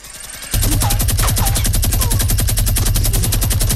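A minigun fires in Fortnite with a loud, rapid, unbroken stream of gunshots. It starts about half a second in and keeps up a dense, even rattle close by to the end, with no talking.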